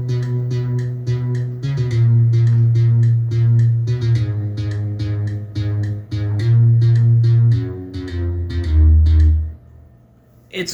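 Dark synth layer from a music production project, a sustained low pad under rhythmic pulsing upper notes, steady and moderately loud, shifting pitch a few times before fading near the end.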